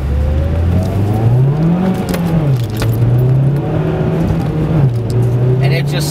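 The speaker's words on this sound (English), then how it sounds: "I'll drift this turn up here." Mitsubishi Evo X with a 4G63 engine drifting through a turn, its engine note rising and falling steadily as the car works through the corner, with road and tire noise throughout.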